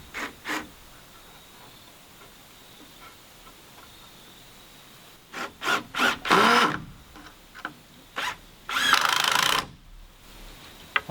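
A power drill drives screws to join wooden top plates of a workshop frame, with short whirring bursts and then longer sustained runs as the screws seat, close and fairly loud, and tool handling sounds between bursts.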